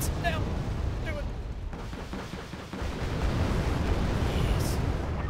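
In Wargame: Red Dragon, rockets fire and explode in a rapid run of rumbling booms and crackling blasts that roll on over several seconds, with a voice talking over the battle.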